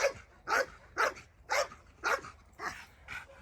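A dog barks repeatedly in a steady rhythm, about two barks per second, fairly close and clear, during K9 protection training in a hold-and-bark cubicle.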